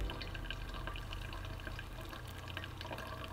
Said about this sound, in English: So you can kind of see as I pour it in, it's like almost foaming up a little bit.